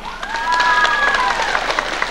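A crowd applauds at a public event in Szczecinek, steady clapping with a whistle-like tone rising over it, then the clapping gradually thins out.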